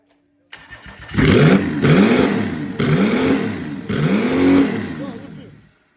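A Mercedes OM606 inline six-cylinder turbo diesel engine cranks without glow plugs with a rhythmic, labored churning in several surges, loud and close, then cuts off without catching.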